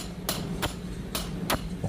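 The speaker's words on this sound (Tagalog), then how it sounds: "Pukpok ng malakas para matanggal yung valve guide." A hammer strikes hard on a valve guide being driven out of an auxiliary generator cylinder head, four sharp metallic blows at uneven intervals and a softer fifth tap, close up.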